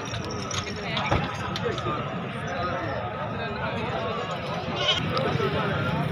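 Goats bleat at a crowded livestock market ahead of Qurbani, their calls rising over a busy, continuous din of nearby talk, movement and the scuffle of hooves.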